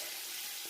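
Onions fry in oil for mutton pulao, giving a short, steady hiss of sizzling close by with no voices.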